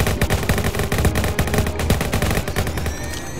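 Rapid AK rifle fire in a video game, a dense burst of loud automatic shots rattling steadily without pause.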